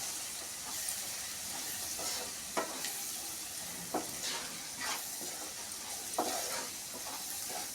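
Turmeric stirred into a chickpea curry frying in a pan, with a constant sizzle and hiss and occasional scraping knocks of the spoon, close and moderately loud.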